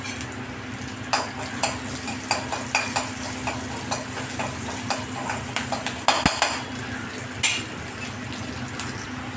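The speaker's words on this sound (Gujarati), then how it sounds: "હવે મેં આમાં પપૈયા નાખી દીધા છે ને હું એક સરખું હલાવતી જઈશ." Raw papaya stirred in a pan with green chillies and salt, a steady low sizzle beneath frequent scraping and clinking strokes of a spoon against the metal, no voices.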